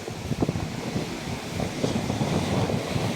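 Sea waves breaking and washing over rocks on a windy shore, irregular surges and splashes under heavy wind buffeting the microphone.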